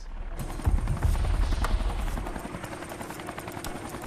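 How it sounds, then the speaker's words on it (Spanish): A rescue helicopter flying in the Everest mountains thumps steadily with a loud whine above it, close and continuous, the blades chopping in a strong low pulse throughout. "el helicóptero tiene que descender y elevarse verticalmente"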